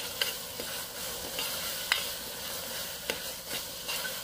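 Ginger garlic paste frying in a pan with steady sizzling, stirred now and then with a spoon, whose scrapes and taps come through in faint, scattered knocks over the constant hiss.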